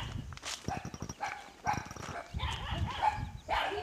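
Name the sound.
many dogs barking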